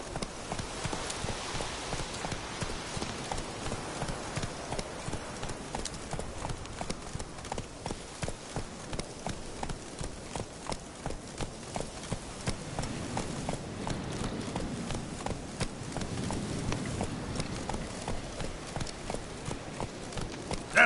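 Roach the horse gallops in The Witcher 3, giving a fast, steady clip-clop of hooves that runs the whole time at moderate loudness, with a faint patter like rain behind it.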